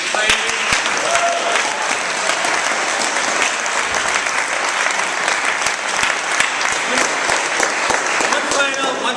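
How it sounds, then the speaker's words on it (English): A crowd applauds a panel discussion on policing, loud, dense clapping that holds steady throughout, with sharp individual claps standing out near the microphone and some talk mixed in. "round of applause for the great."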